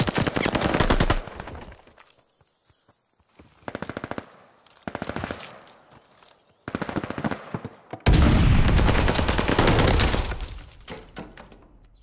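Rapid automatic gunfire erupts in loud bursts during a video game hardpoint match, with short gaps between volleys and a long, sustained barrage near the end, close and dominant.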